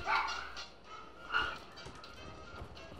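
A single dog bark near the start, then another yelp a moment later, over faint background noise in the video game Fallout 4.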